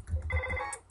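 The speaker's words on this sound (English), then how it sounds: "The phone is ringing." A telephone rings in the video game Earthbound, a short, bright electronic trill with a few rapid pulses, heard alone and fairly loud.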